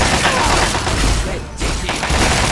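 Gunfire in the video game Fallout, a dense, continuous barrage of shots with heavy thuds, loud and close, briefly dipping mid-clip before resuming, with voices mixed in.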